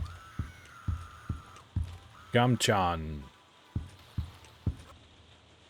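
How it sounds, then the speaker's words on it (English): Footsteps in the video game Flesh Reborn: loud, evenly paced thuds, about eight in all, with a short spoken word breaking in midway. "Footsteps are very loud in here."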